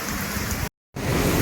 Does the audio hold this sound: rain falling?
yes